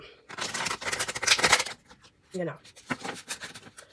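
Tarot cards being shuffled by hand at close range, dense papery riffling bursts in two stretches separated by a short pause, with a voice speaking intermittently.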